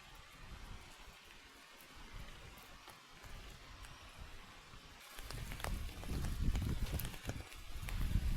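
Heavy nighttime rain pours down at a forest campsite, a dense steady hiss that grows louder and harsher in the final seconds as the downpour intensifies, with drops pattering on nearby surfaces.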